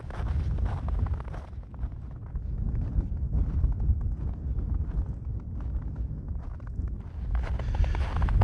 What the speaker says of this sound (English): I hope you can hear me over this wind. It's a bit windy up here.